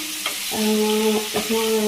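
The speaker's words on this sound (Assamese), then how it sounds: "এইখিনি মই অকণমান ফ্ৰাই কৰি লওঁ" Steady sizzling of food frying in hot oil, with a sustained tonal hum rising over it partway through.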